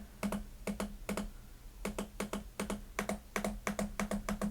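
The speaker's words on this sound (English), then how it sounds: "That's the right click." Sharp, crisp trackpad clicks on a OneXPlayer Super V keyboard cover, close up and alone, arriving in quick pairs and short clusters separated by brief pauses.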